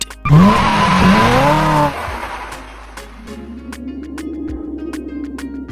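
A 2008 Audi A3 2.0T launches hard with a loud burst of tire squeal and engine roar for about two seconds. Afterward a steady low road rumble continues with a few faint clicks.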